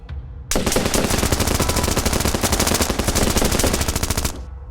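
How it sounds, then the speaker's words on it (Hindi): Sustained machine-gun fire as a sound effect in a Hindi audio story, with a rapid, unbroken burst of loud, dense shots lasting about four seconds before cutting off. "अभिराज के ऑर्डर देते ही उसके सारे आदमियों ने फायरिंग ओपन कर दिया।"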